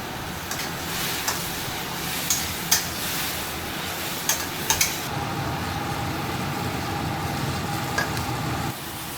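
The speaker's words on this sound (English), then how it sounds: "we put the ingredients in the wok with oil and stir-fry them until cooked" Spring onions, ginger and garlic stir-fried in oil in a wok, a continuous hissing sizzle with scraping stirs and a few sharp metallic clicks of the spatula, steady and close throughout.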